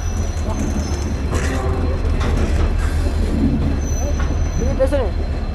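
Suryanagari Express pulls into Jodhpur station at night with a steady low rumble, wheel noise and a brief squeal near the end, while people talk in the background.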